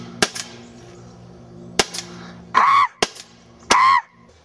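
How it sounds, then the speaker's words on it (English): Paintball gun firing four sharp shots at uneven intervals, the second and fourth each followed by a brief hissing burst of gas, close and loud with no talk. "the bolt is moving when I shoot the paintball gun"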